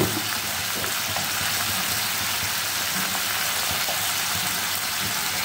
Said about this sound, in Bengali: এবার ভালো করে কষে নেব মশলাটাকে